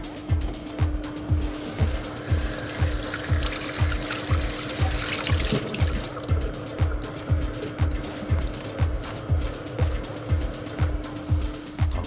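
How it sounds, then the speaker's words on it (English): Salad leaves are rinsed under running water, giving a steady trickle and splash with a regular rhythmic pulsing throughout, close and moderately loud, with no talk. "So we take them, we wash them."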